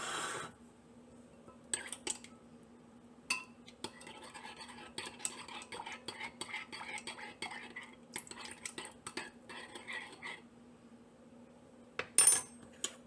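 A spoon scoops and taps through crushed pineapple and other teriyaki sauce ingredients in a container, giving a series of close, light clinks and scrapes with short pauses between scoops.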